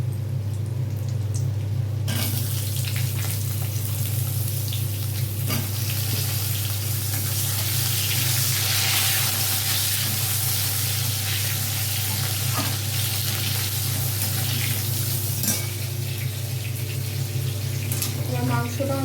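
Potatoes dropped into hot oil in a pan for a Bengali chicken curry, setting off a loud, steady crackling sizzle that holds throughout, with a stirring clatter and a short burst at the start.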